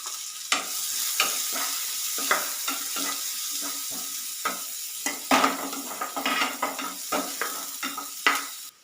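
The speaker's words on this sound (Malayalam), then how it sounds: "ഇതിലേക്ക് മീഡിയം സൈസ് 2 സവാള എടുത്തിട്ടുണ്ട്, അത് ഇതിലോട്ടിട്ട് കൊടുക്കാം" Two medium chopped onions fry in hot oil in a pan, making a steady sizzle broken by repeated scraping stirs of a spatula, close and fairly loud, with no voices.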